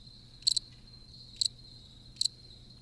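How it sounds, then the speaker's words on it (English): A cricket sound effect chirps in three short, evenly spaced bursts over a steady high insect drone and a faint low hum, with no voices. "Crickets."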